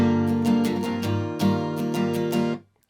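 Strummed acoustic guitar chords in a split down-down-down-up-down-up pattern for a song, a steady close-up rhythm of bright chord strokes with no talking, ringing briefly before stopping near the end.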